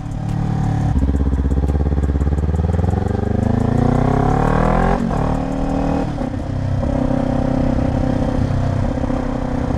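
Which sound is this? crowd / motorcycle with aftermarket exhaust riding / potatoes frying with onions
motorcycle with aftermarket exhaust riding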